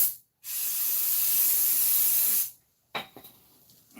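An aerosol spray hisses for about two seconds while it cleans the oil pickup tube of an Rx7 engine during a rebuild. The hiss is close and steady and cuts off sharply, then a short sputtering burst follows.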